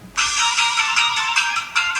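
A Motorola RAZR V3C plays a film theme as a ringtone, a bright, tinny synthesized melody in short repeating phrases, loud and alone.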